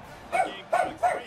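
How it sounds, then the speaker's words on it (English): A dog gives three evenly spaced barks, close and moderately loud, during a College Football 25 game session. "Hush, doggy."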